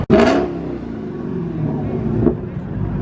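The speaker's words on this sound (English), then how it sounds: "Just revving it right here." A car engine revs hard with a sharp rise, then rumbles steadily before a second smaller rev; loud and close.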